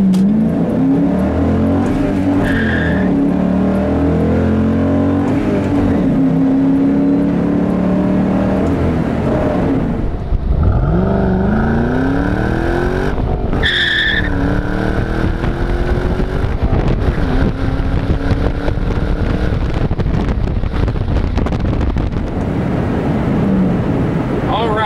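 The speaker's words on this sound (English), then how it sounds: "so we'll do a little acceleration run right here" A 2007 Ford Mustang GT Premium with a five-speed manual gearbox accelerates hard from inside the cabin. The engine roar is loud and builds through rising revs, with gear changes around the middle, and wind and road noise fill the background.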